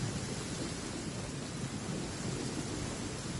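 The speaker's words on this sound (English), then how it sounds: "Let us find shelter from the rain." Steady rain with a low rolling rumble of thunder in the video game Genshin Impact, a continuous wash of downpour heard alone with no voices.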